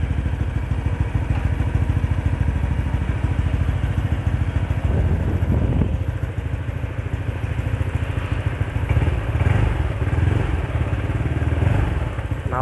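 A Honda Vario 125 scooter engine fitted with a WRX silent racing V2 exhaust runs close by with a low, steady pulsing putter that swells slightly in places, with faint mechanical clatter.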